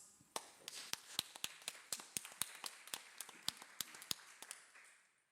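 A small audience at a neuroscience talk gives sparse applause, a few dozen distinct claps spaced fairly evenly over about five seconds, quiet and sounding like only a handful of people, fading out at the end.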